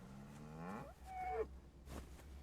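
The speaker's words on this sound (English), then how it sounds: "Why did that moo sound so..." A cow in Kingdom Come: Deliverance II gives two drawn-out, close moos, the first long and sliding, the second shorter, followed by a breathy snort, alone with no talk.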